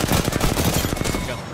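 Rapid automatic gunfire from the Apex Legends battle royale game, dense bursts of shots filling the whole stretch at close, loud range, with a faint voice underneath.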